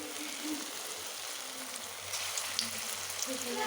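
Pakoras frying in hot oil give off a soft, steady crackling sizzle with faint clinks, heard at moderate distance under background murmur and quiet voices.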